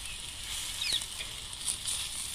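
Arbi (colocasia) leaf pakoras fry in hot oil in a pan, giving a steady, fairly quiet hiss of sizzling with a few brief pops and crackles.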